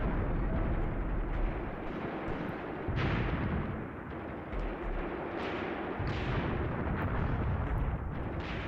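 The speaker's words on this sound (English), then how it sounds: "Some of the artillery that's landing on the slope of the hill there, it looks too heavy to be my mortars." Heavy artillery shells land on a hillside in Graviteam Tactics, a dense, continuous roar of rumbling explosions with repeated deep booms, loud and without voices.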